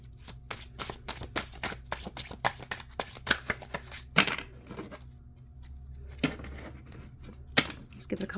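Repeated riffling and soft snapping of tarot cards being shuffled close by, in quick bursts with short pauses, over a steady background of cricket chirping.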